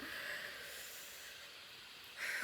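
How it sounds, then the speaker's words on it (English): A soft, breathy nose blow, a hissing rush of air that swells again at the end, quiet and close. "I shouldn't blow my nose in"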